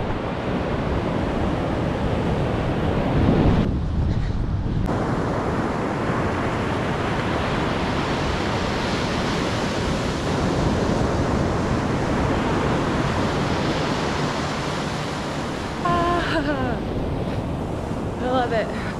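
Ocean surf and strong wind on a Florida beach roar continuously and loudly, with heavy wind buffeting on the microphone throughout and a brief lull near the start.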